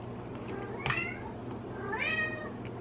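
A house cat named Boots meows twice, each a clear rising-falling call about a second apart, close by over a steady low household hum.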